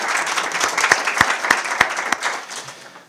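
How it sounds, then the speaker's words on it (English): Moderately sized audience at a UN conference session applauds loudly and close by, with distinct individual claps punctuating the crowd clapping before it thins and fades out near the end. "They deserve a round of applause."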